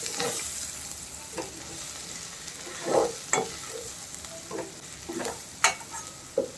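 Ivy gourd (tindora) sizzling and frying in a pan, with soft scattered crackles and occasional stirring scrapes over a steady low hiss, close and moderately quiet.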